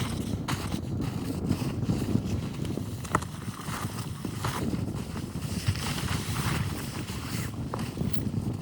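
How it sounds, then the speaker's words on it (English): Strong wind gusting across a remote frozen lake, a constant low roaring rumble with microphone buffeting, close and fairly loud, no voices. "It is so windy."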